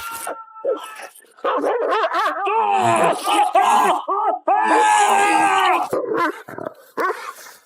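A large black dog barks, growls and whimpers in loud, close bursts, with short pauses between the outbursts, as part of an aswang horror story.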